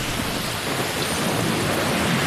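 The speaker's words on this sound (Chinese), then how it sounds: "哇，这个雨猛的，" Heavy rain pours during a typhoon in Shanghai, a loud, dense and continuous roar of downpour with thunder rumbling underneath, heard up close with no talking.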